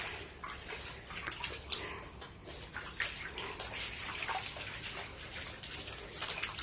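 Heavy overnight rain floods a cactus greenhouse, with water pouring down from higher ground, giving a steady, dense rushing and splashing wash that stays constant throughout with no talking.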